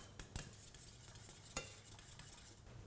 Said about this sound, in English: Then we add some butter, just whisk in the butter